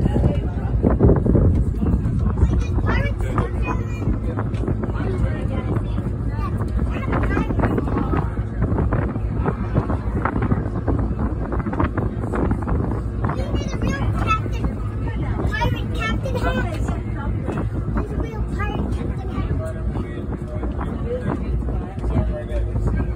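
A small boat under way on open water, steered by a young child at the helm, with steady wind buffeting the microphone and a constant low engine or hull rumble throughout, while voices speak over it.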